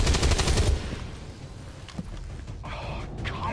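Rapid automatic gunfire from the video game XCOM 2 rattles out in a dense burst, then stops, followed by quieter scattered game sounds.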